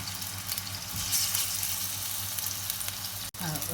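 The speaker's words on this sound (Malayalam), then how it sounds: "ചിക്കൻ നോർമലി വറക്കുന്ന അത് മീഡിയം ഫ്ലെയിമിൽ വറുത്തെടുക്കാം" Marinated chicken pieces for chicken charcoal fry in oil over a medium flame. A loud, close, continuous crackling sizzle carries on throughout, broken by one brief clunk near the end.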